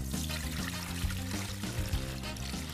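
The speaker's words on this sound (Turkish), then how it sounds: "Bütün bu karışımı içine döküyorum." A mint mixture with peels poured through a wire strainer into a mixing bowl, a continuous close liquid pour with splashing and trickling that runs steadily throughout.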